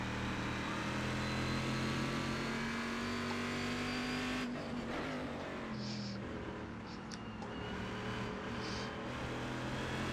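A Corvette race car in the iRacing sim: steady, loud engine drone with a constant pitch that cuts off sharply near four and a half seconds, followed by a quieter, shifting engine note with faint tyre noise.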